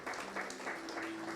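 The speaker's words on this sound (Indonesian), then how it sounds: "Tepuk tangan buat Tuhan kita." A congregation at a church service at WTC Kota Wisata claps briefly and faintly for God, a soft rhythmic patter of hands with a low hum underneath.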